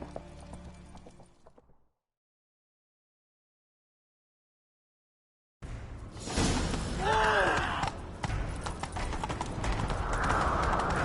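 Horses gallop in a video game, a loud rapid clip-clop of hooves with a neigh partway through, coming after a brief silence and mixed with other game sounds.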